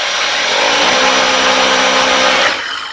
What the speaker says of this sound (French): tu vas avoir le bruit de l'aspirateur, mais tu vas avoir aussi la brosse principale qui elle aussi est motorisée, qui va tourner